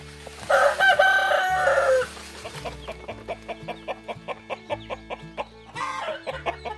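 A rooster crows loudly up close, followed by a rapid run of rhythmic clucking from hens and chicks at a self-feeding feeder, over a faint background hum.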